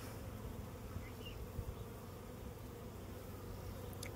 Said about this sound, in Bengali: এই ফুটো দিয়ে দেখুন